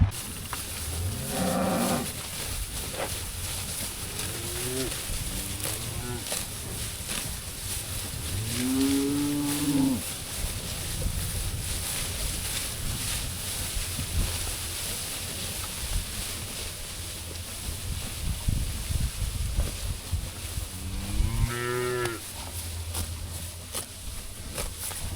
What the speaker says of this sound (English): we have got some pretty darn decent good looking calves